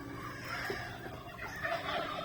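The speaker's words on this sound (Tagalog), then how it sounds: "Ito yung mga ducklings natin mga tropa mga pato natin yan." Young ducklings on a backyard farm call close by, a busy stretch of soft overlapping peeps and quacks rising and falling over low ambient noise with no talk.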